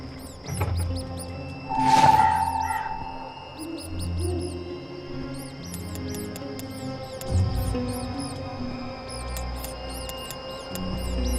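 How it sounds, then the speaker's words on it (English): Rat squeaks in Dreamfall Chapters, several faint high chirps scattered through quiet ambient game atmosphere with a brief louder rustle and low background hum. "It's a rat, and it's not moving."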